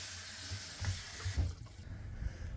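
Rice water poured onto garden plants, a soft close trickle and splash of liquid with a few louder gurgles, quiet and brief.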